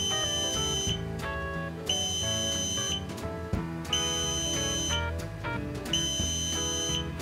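A CNC carving machine's completion alarm sounds in a workshop as a loud, repeating electronic beep pattern, with about one-second pulses cycling steadily throughout.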